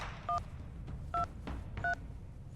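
Touch-tone telephone dialing in the Reverse: 1999 video game, three clear evenly spaced beeps about a second apart over a low background rumble.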